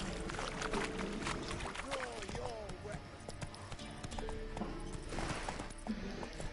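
Horse hooves clip-clopping in The Witcher 3, a steady faint rhythmic trot running under a constant dense game soundscape of wind and ambience throughout.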